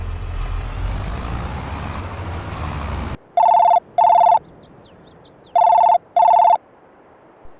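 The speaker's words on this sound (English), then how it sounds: "We've just got to wait for the phone to ring now." A telephone rings in a farming video game, with two pairs of loud electronic double rings following a rumbling vehicle engine that cuts off abruptly.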